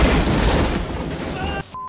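A movie explosion booms with a rumbling, crackling burst that fades away, followed by a brief quieter tail.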